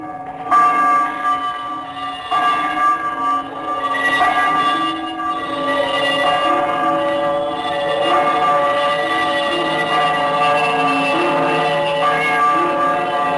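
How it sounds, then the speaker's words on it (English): An old bell ringing as a sound effect in a Christmas Carol radio drama, a loud, dense metallic clangor of overlapping tolls sustained for over ten seconds, no talk. "he saw this bell begin to swing"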